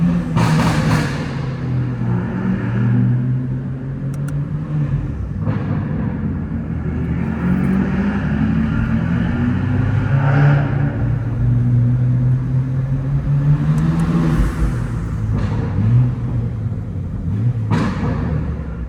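BMW M4 G82 and F82 cars driving on the road give a steady low engine rumble and road noise throughout, with rising and falling revs and a few brief louder surges, close and continuous with no talking.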